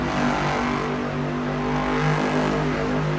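Monster truck Monster Mutt Rottweiler revs its engine during a slow donut in a Monster Jam arena in Tacoma, a loud, close, continuous rumbling roar with no talk.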